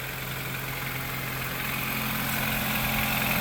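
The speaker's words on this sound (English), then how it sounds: "Motor sounds like it's running strong." A Nissan economy car with 142,000 miles idles with a steady, even engine drone and low hum, constant and close with no talk over it.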